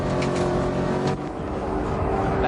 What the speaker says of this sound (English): This big V8 Ford Mustang just not used to running at this higher altitude.